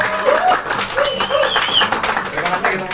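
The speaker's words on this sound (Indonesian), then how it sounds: "Tepuk tangan yang paling baik." Scattered clapping from a crowd at a karaoke gathering at Ipukan Camp, moderate and continuous, with voices and cheers mixed in.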